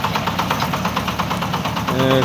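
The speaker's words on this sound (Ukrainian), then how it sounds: "Ось, їде тракторець Шепен 240" A Shifeng 240 mini tractor rolls past with its small diesel engine running, giving a steady, even knocking rumble at close range for a couple of seconds.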